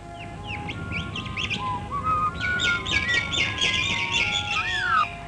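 Wild birds in leafy gum trees on an Australian riverbank give a busy mix of chirps, whistles and squawks, several calls overlapping close by with no talking.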